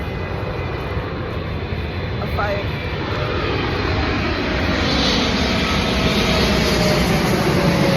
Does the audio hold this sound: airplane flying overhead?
yes